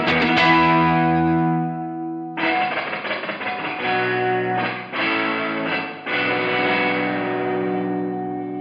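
Electric guitar chords ring through the spring reverb mode of an ALABS Cetus pedal with modulation and dwell turned up, each strum followed by a long, splashy, wobbling tail that keeps sustaining.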